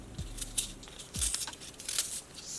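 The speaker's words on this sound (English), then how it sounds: "So I'm just going to peel off the skin now." Skin being peeled from a raw cassava (yuca) root, giving scattered soft scraping and tearing rasps with a couple of low thumps, close and fairly quiet with no talking.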